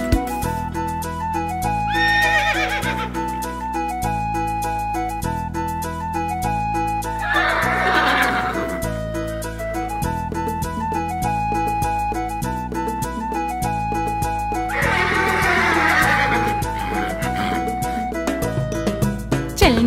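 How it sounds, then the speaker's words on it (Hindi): Horse neighs and whinnies repeat as bright sound effects at intervals over a bouncy children's Hindi rhyme backing track with steady beat and melody, with no singing voice in between. "चल मेरे घोड़े टिक टिक टिक"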